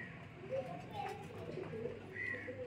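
Rampuri pigeons coo softly in a few low, rounded calls spread across a steady background murmur, fairly close by.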